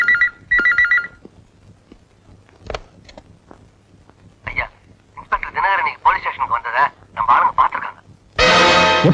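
A telephone rings in two quick bursts at the start, followed by talk and other scene sounds, with a loud broadband burst near the end.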